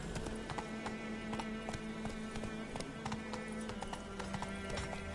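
Horse galloping in The Witcher 3, steady rapid clip-clop hoofbeats close and continuous over a constant ambient hum, with no talking.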